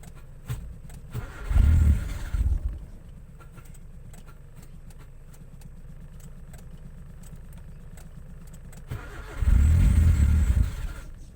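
A car that has broken down, heard outdoors as its engine roars in two loud revving bursts, one near the start and one near the end, with a quieter low rumble between them.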